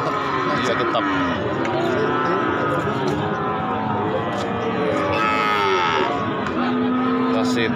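Many cattle moo loudly and continuously at a busy cattle market, overlapping calls near and far over constant crowd chatter and background bustle.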